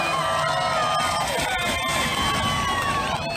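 A large crowd cheers and whoops at a General Lee car jump event, a loud sustained roar of many voices with shrill shouts and whistles rising above it.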